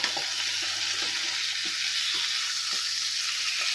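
Steak sizzling steadily in a hot pan as it is flipped, a continuous close frying hiss with faint clicks and small spatters, no voices.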